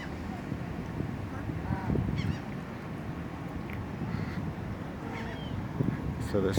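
Geese and other waterfowl being fed at a tropical lake give scattered honks and calls over wind noise and a low rumble, with people murmuring nearby.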